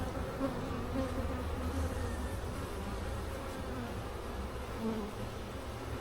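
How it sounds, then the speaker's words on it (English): Honeybees hum continuously inside a small nuc hive, a dense, steady drone close to the listener with no break and no talking. "there's a young bee there"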